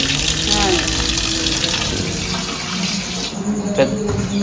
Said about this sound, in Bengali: ধোবা এখন